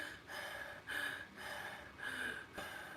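Quick shallow breaths, inhaling and exhaling in a short rapid rhythm of about five breaths over a few seconds, soft and close with no talk.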